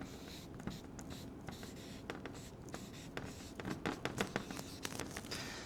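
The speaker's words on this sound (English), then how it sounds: "So I'm just going to write banner in here." Pen scratching on paper as the word banner is written out, a run of quick close strokes and small taps over steady room noise, with no talking.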